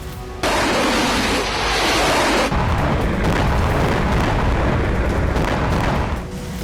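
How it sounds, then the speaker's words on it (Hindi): Aerial bombardment in war, a loud, continuous roar of heavy booming blasts that rumble and overlap for several seconds before easing slightly at the end. "आसमान से जबरदस्त बमबारी"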